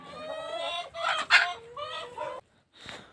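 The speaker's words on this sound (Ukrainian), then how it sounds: "Кури бентанки вилітають на дерево." Several bantam chickens cluck and squawk close by in a busy, overlapping burst, then a brief pause before one more squawk.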